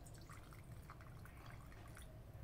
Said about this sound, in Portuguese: E agora vamos acrescentar a água.